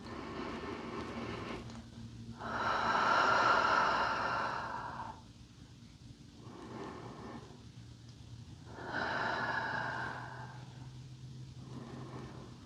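Slow, deep breaths during a gentle restorative yoga session: two long, soft inhale-exhale cycles, close and unhurried, with quiet pauses between them and faint background hum.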